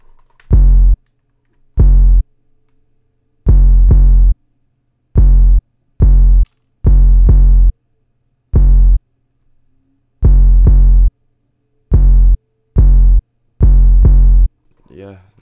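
An 808 bass in a dark plugg beat plays loud, deep, booming notes in an uneven rhythm, with short bursts separated by silent gaps and nothing else audible.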